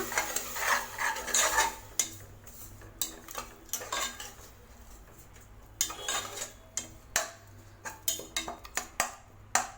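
A utensil scrapes and clinks against a pan in repeated bursts as a thick tomato mixture for potato gravy is stirred, with a soft sizzle underneath and no talking.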